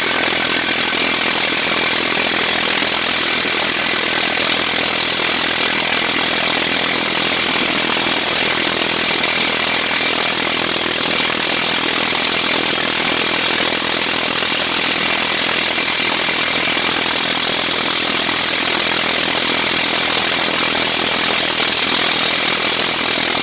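A Craftsman power tool strains on a vehicle transmission job, giving a loud, unbroken, harsh mechanical whir that holds steady throughout without pauses.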